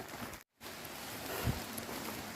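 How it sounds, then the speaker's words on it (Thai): Water from a waterfall rushes in a steady faint hiss, broken by a brief gap, with no voices. "เสียงน้ำตกได้ยินเสียงน้ำตกไหมคะเพื่อน"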